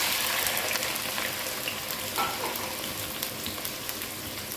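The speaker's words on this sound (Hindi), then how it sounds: "उसी घी में अब हम प्याज डाल देंगे।" Onions frying in hot ghee give a continuous, even hiss with light crackling, close and steady throughout, with no talking.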